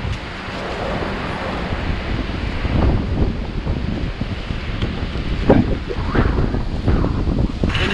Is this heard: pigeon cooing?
no